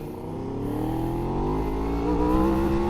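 An Aprilia RSV4 motorcycle's V4 engine pulls hard under acceleration, a loud continuous rising drone that climbs steadily in pitch from the rider's position with no gaps.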